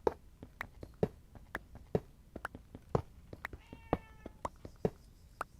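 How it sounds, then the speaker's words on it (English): A pet cat meows close by indoors, short repeated cries mixed with a steady run of sharp clicks or taps, fairly quiet overall. "my cat's meowing right next to me."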